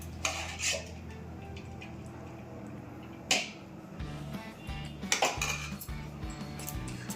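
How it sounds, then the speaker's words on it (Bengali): Crushed biscuit cake batter being stirred in a bowl with a utensil, giving scattered clinks and scrapes against the dish over a steady low hum, with a few louder knocks, close and moderately quiet. "ভালো করে নাড়তে হবে, নাহলে বিস্কুটের ডাবগুলো রয়ে যাবে"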